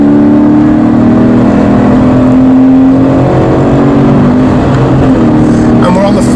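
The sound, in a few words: Toyota GT86 engine driving on track circuit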